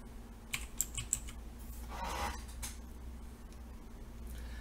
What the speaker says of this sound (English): all I do is click into this box, and I click Encoder, and I just type in the word Encoder